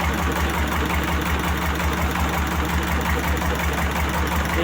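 A Kem SD 1100 bearing-type heater compressor machine runs on a service station's service deck, giving a steady, even mechanical drone with a low pulsing hum throughout.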